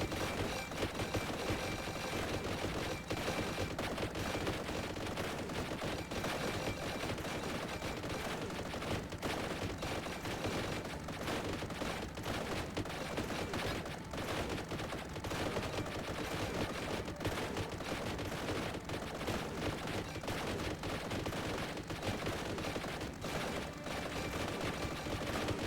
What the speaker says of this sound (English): Heavy bolter. Evolved bolt gun lays down a constant barrage of suppressing fire.